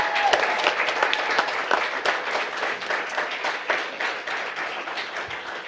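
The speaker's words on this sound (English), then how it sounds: "Let's give them a hand." Audience applause for the Saugus varsity co-ed competitive cheer team at a school district meeting, a sustained wash of many hands clapping with sharp individual claps standing out, holding steady throughout.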